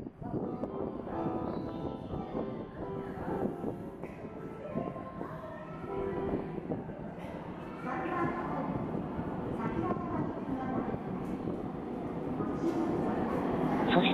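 A Nagoya Municipal Subway Sakura-dori Line train pulls into Sakurayama station, rumbling and squealing as it slows, with a station announcement or voice running over the rail noise, which grows louder toward the end.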